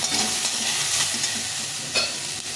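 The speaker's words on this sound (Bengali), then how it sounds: "পরিমাণ মতো হলুদ গুঁড়ো দিয়ে এটাকে আর একটু ভালো করে ভেজে নেব" Freshly picked greens fry in a pan with salt and turmeric, giving a steady close sizzle with scraping stir strokes breaking through now and then.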